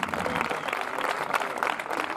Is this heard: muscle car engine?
no